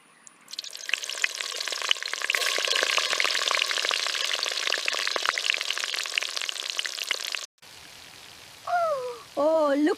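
Fish sizzles loudly in hot oil in a pan for several seconds, a dense crackling hiss that stops abruptly, followed by quieter background and brief bird-like chirps.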